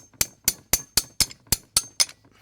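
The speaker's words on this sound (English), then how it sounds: "we're going to tap it with a hammer to knock that loose" Eight sharp, evenly spaced metallic taps of a hammer on a 7/8 wrench fitted to a hydraulic fitting on a Wright Stander ZK mower, each ringing briefly, close and clear with no talk.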